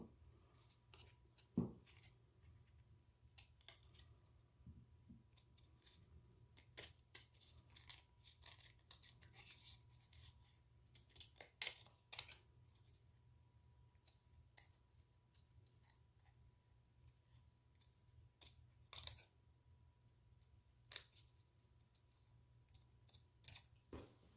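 Scissors snip through paper during a craft demonstration, making quiet, sporadic crisp clicks and cuts over a near-silent background with no voices.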